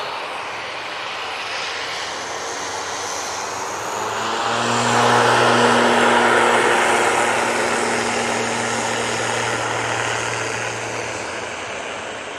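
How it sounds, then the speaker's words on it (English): A Singapore Airlines Airbus A350-900 arrives over Stockport on approach to Manchester, its steady jet roar swelling in the middle as it passes overhead, then slowly fading, with no voices. "coming over Stockport, we've got Singapore Airlines A350-900"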